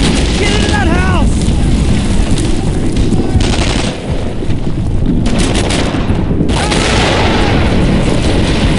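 Dense, loud gunfire and booming explosions from a World War II battle in Brothers in Arms: Earned in Blood, with continuous bursts and blasts throughout and shouting voices mixed into the din.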